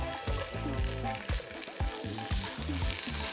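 Garlic, added after shallots, frying in a pan, with a loud steady sizzle and occasional stirring over a low rhythmic hum underneath; no voices.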